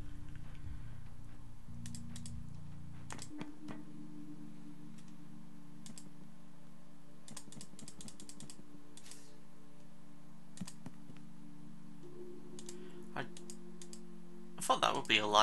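Computer mouse and keyboard clicks while playing a video game, scattered bursts of quick, close clicks over a low steady game drone and hum, with a louder cluster of rapid clicking near the end.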